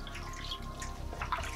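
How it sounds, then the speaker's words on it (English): Water pours and splashes steadily as a foot is rinsed during care of one foot, a soft, continuous running wash with small drips, close and fairly quiet. "After washing, I rinse the entire foot."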